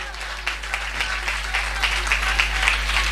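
A church congregation claps together in steady, dense applause at close range, continuous and even throughout, with a low hum underneath.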